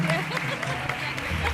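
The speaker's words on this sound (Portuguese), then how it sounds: "Dê um aplauso ao Senhor Jesus." A church congregation claps and applauds at a worship service, a steady dense patter of hands mixed with voices throughout.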